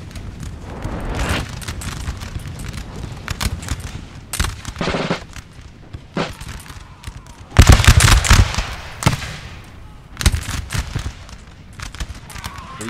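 Musket volleys in Napoleon Total War, a dense crackle of massed gunfire in repeated ragged bursts, some close and loud, others farther off, over a rumbling battlefield.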